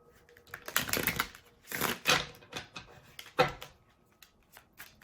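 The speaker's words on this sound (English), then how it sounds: "Let me shuffle this deck another time here." A deck of cards is shuffled by hand in several quick riffling bursts separated by short pauses, close and fairly crisp, with no voices.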